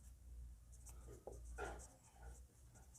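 A pen scratches across paper while a maths solution is written out, in short irregular strokes and taps, close and fairly quiet, with faint background hum.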